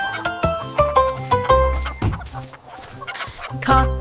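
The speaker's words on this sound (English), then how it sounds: "chickens clucked to start the day" Farm chickens clucking in a repeated rhythmic pattern alongside a bright melodic children's nursery rhyme tune, the clucks close and prominent over music.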